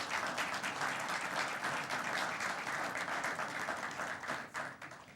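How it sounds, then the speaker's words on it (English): A hall of fame audience at a Kentucky high school basketball press conference applauds the class of 2013, with sustained, dense clapping filling the room that tapers off at the end. "Let's have a round of applause for all the members of the class of 2013."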